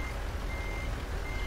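A truck reversing in Euro Truck Simulator 2, its steady high reversing beeps sounding over a loud, low rumbling engine drone, continuous and close.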